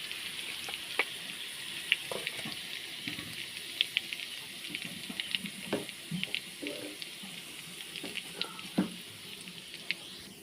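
Garlic and curry leaves sizzle softly in a little hot oil in a kadai, with a low steady hiss and scattered small crackles and pops over about ten seconds, moderately faint and with no voices.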